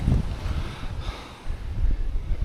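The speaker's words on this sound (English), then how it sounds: "I've never seen as windy a September as this one" Strong gusting wind on the Murray River at Tocumwal buffets the microphone with a rough, rumbling roar that swells and dips over a couple of seconds.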